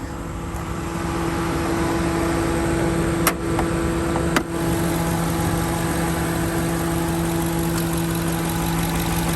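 A 6.4-liter Hemi V8 in a 2021 Ram 2500 pickup idles steadily nearby with a deep, even rumble and hum, broken by two brief clicks.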